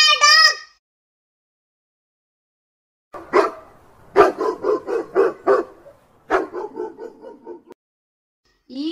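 A dog barks in a quick run of sharp, mid-loud barks, alone with no voice over it, after a child-oriented sung voice has just said a letter and word.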